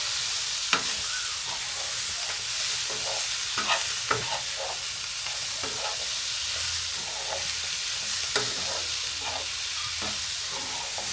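Lemon juice being stirred into a mushroom and paneer mixture frying in butter and oil in a pan, with a steady close sizzle and repeated spatula scrapes and taps over several seconds.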